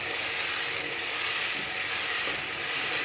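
Sliced tomatoes and pepper fry in a pan of fish sauce while being stirred, giving a steady, loud broadband sizzle and hiss that holds evenly throughout with no talking.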